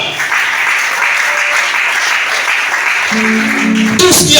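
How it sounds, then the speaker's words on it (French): An audience applauds Shana in a sustained, dense burst of clapping that holds steady throughout, with a few tonal voice or music sounds rising over it near the end. "Acclamez Shana."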